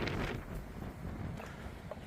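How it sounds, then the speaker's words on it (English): Cold wind gusts faintly past the microphone at Rhodes Memorial in Cape Town, a soft, low, continuous rush with no voices. "There's a very, very cold wind."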